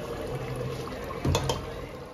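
Water is poured into a cooker of soaked rice for pulao, a short, faint splash and gurgle that swells briefly over a quiet kitchen background.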